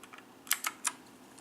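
Keys pressed on an RGB mechanical keyboard, a few scattered soft taps followed by three sharper, louder clicks in quick succession, close and alone.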